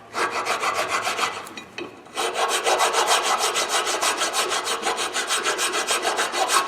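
A tool scrapes rust off the edges of a Pontiac G6 GT brake caliper bracket in fast rhythmic strokes, a loud close rasping with one brief pause near the start.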